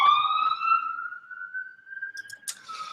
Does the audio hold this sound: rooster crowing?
no